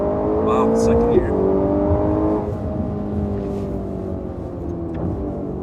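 A Ferrari Roma accelerates hard in second gear, its engine note rising loud and close and holding a steady sustained roar, with someone talking excitedly over it.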